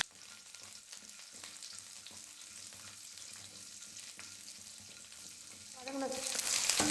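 Shallots sautéing in a pan with cloves, cinnamon and cardamom for a vegetable biryani give a steady, moderate sizzle with light stirring scrapes; the frying swells into a louder hiss near the end, with no voices.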